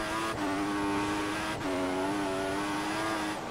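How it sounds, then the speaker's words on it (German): An F1 2014 video game race car in the rain at the Australian Grand Prix slides around with a steady, high engine whine, two sharp gear shifts breaking the tone before it settles again, with no voices. "Oh, das Auto rutscht rum."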